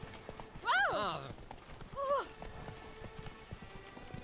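Roach, the horse in The Witcher 3 game, trots along with steady hoof clip-clops and gives two distinct whinnies, the first long and the second shorter, while someone speaks briefly over the scene.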